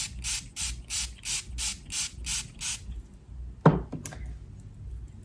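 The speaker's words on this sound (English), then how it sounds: "So now I'm going to just spray a little bit more." A rapid series of eight or nine quick pumps of a spray bottle of hydrosol, each a short hissy burst, followed by a sharp knock or tap.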